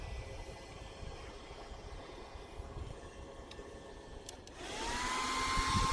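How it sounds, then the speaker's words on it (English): A hairdryer switches on near the end, its rising whine and rush of air swelling after a quiet stretch of low room hum, used to warm an area of a motorhome before applying Sikaflex sealant. "I've plugged into it a hairdryer because I'm going to need to warm this area up for a minute"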